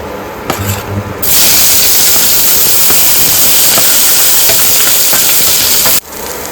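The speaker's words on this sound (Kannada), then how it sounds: "ನೋಡಿ, ಈರುಳ್ಳಿ ಚೆನ್ನಾಗಿ ಫ್ರೈ ಆಗಬೇಕು." Sliced onions, one large onion cut lengthwise, hit a hot pan for potato palya with a loud, steady hiss and sizzle, after a few short stirring clacks, then the sound cuts off abruptly near the end.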